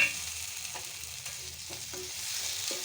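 Potatoes and spices stirred and frying in a pan for a winter peas-and-potato dish, a steady close sizzle with repeated scraping stirs.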